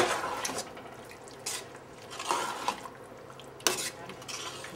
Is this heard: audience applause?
no